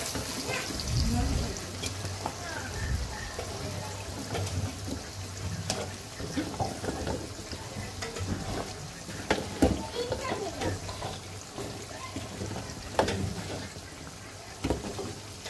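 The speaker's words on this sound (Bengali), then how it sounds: "এখন লাউগুলো দিয়ে দিব।" Bottle gourd pieces go into a pan of tomato curry spiced with salt, turmeric and chili powder, cooked alongside snakehead fish and dried Bombay duck; a low, steady sizzle runs throughout with scattered clinks and faint background voices.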